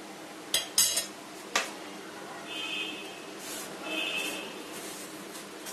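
Chicken nuggets dipped in egg and rolled in breadcrumbs, with a few sharp clinks of cutlery on a dish early on, then soft scraping and rustling, close and fairly quiet with no talk.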